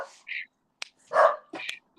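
An indoor dachshund gives several sharp, close barks spread irregularly over two seconds, each one short and loud with quiet gaps in between.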